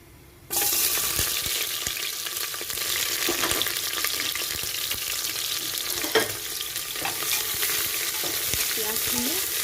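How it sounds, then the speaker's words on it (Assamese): Onions frying in hot oil inside a pressure cooker for chicken biryani, a steady loud sizzle that starts abruptly and continues throughout with occasional stirring clinks. "তেল দি পিঁয়াজখিনি ফ্ৰাই কৰি ল'ব।"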